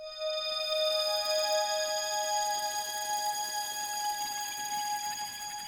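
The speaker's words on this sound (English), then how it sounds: "So that, like, kind of an atmospheric sound with a little bit of like a string on it." Atmospheric synth pad layered with a soft string tone, sustained bright chords holding steadily and slowly fading, with no other sounds around it.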